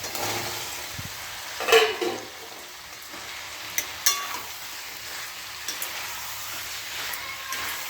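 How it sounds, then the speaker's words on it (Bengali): Boiled potatoes added to hot oil in a pan, giving a steady close hiss of frying with a few brief sharp crackles and stirring clinks, no talk. "মোটামুটি তেল ছেড়ে আসবে, এবার এই সিদ্ধ করা আলুগুলো দিয়ে দেবো।"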